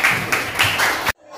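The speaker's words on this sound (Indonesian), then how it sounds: "Tepuk tangan untuk Sophie" A classroom of students claps for a classmate in a short burst of applause, about one second long, fairly loud and close, that stops abruptly.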